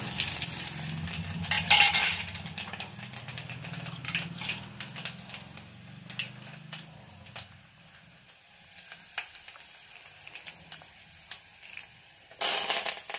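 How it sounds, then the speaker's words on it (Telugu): Crushed small onion, tempering seeds and dry red chillies fry in hot oil for a pickle, a steady close sizzle with occasional stirring clinks that thins out toward the end before a final burst of frying. "చిన్న ఉల్లిపాయ కచ్చా పచ్చగా దంచుకున్నాను, తిరగమాత గింజలు, ఎండుమిరపకాయలు వేస్తున్నాను."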